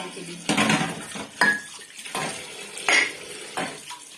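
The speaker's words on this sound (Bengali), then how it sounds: "এই যে চায়ের কাপগুলো সব ধুতে হবে" Tea cups and dishes clink and clatter in a few separate bursts as they are washed, close by, with brief pauses between them and a little water sound.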